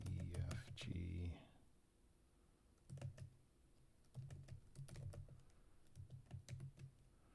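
Typing a bash for loop on a computer keyboard, quiet close key clicks in short uneven bursts with pauses, following a brief stretch of speech at the start.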